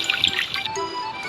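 Water refilling at a station in a Roblox Mount Everest climbing game, a soft trickling, splashing pour that runs steadily through the short moment, close and fairly quiet.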